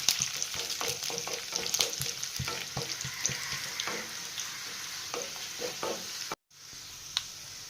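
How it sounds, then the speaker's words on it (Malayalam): Chopped onions and three chilies fry in a pan for a drumstick curry, with a steady close sizzle broken by frequent spoon scrapes and clicks, then a brief dropout near the end before the frying resumes. "ഉള്ളി ചെറുതായിട്ട് മൂത്ത് വന്നിട്ടുണ്ട് അതിലേക്ക് ആ മുളക് മൂന്ന് മുളക്"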